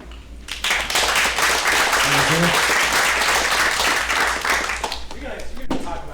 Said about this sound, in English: let's go ahead and give a round of applause